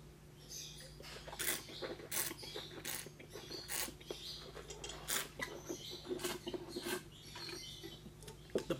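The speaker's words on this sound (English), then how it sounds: "Birds are on fire today. I wonder if you guys are hearing that." Songbirds chirping outside, bright repeated calls in quick bursts throughout, moderately close, with a low steady hum underneath and no talking.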